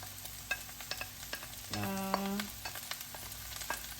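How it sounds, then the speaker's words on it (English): Vegetables sautéing in a pan for savory rice with veggies, with a steady close sizzle, scattered clinks and scrapes of stirring, and a brief louder hissing surge midway. "I'm just gonna saute it for a bit, but I'm not gonna cook it fully here."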